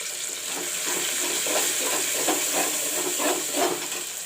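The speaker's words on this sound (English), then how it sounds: "I will let the tomato fry along with the onion" Tomato and onion frying together in a pan for a palak and chana dal, a steady close sizzle and hiss with gentle rising pulses of bubbling, no talk over it.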